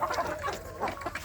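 Young free-range village chicks cluck and cheep in a steady, busy chorus close by, with no talk over them.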